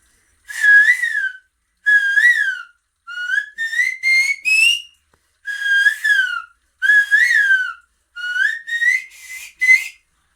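Someone whistles an imitation of a koel cuckoo call in a series of rising, repeated phrases with short gaps between them, clear and close.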